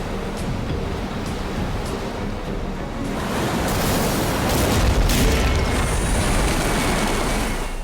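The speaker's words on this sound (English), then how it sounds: "This giant wave hits the boat." Giant ocean wave slamming into a boat grounded on a reef, a loud continuous roar of surf and rushing water that swells and surges heavier midway, with a booming crash and broadband wash filling the whole clip.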